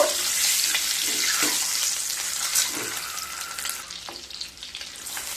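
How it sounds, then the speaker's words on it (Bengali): Eggs lightly frying in a pan for a Bengali egg-poppy-seed dish give a steady close sizzle with faint stirring scrapes throughout, no voices. "ডিমগুলোকে হালকা ভেজে নিয়ে তারপর তুলে নেব"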